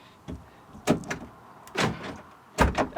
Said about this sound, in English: I'm gonna lock the car.